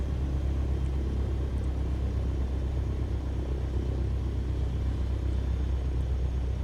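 A simulated Cessna 170 tail-dragger engine idles at low RPM, a steady, close rumbling drone that stays constant throughout with no speech over it.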